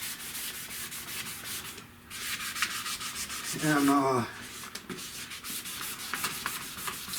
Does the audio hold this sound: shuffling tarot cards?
no